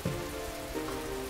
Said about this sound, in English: Good thing it looks like the rain will keep up all night.